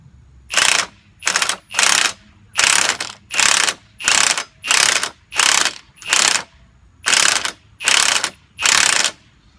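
A spring compressor ratchets down on a third-gen Camaro coil spring, giving about a dozen loud, evenly spaced bursts of clicking close by, each lasting roughly half a second, with no talking.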